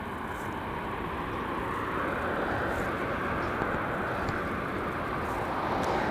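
A Japan Airlines jet in One World livery touches down at LAX after a flight from Tokyo Haneda, its broad engine roar and rushing wind noise steady and moderately distant throughout.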